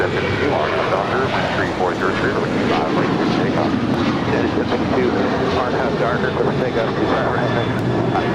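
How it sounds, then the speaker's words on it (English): A United Airlines Boeing 737-900ER departs an airport for Chicago, its jet engines giving a loud, continuous roar close by, with a voice talking over it. "This is United Airlines Flight 330 departing to Chicago. It's a 737-900ER."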